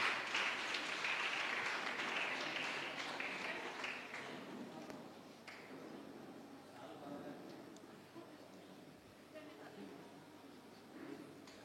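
An audience at a students' vicariate church meeting in Gunadala applauds to welcome priests onto the stage. Dense clapping is loud at first, then fades after about four seconds as talk continues over scattered claps.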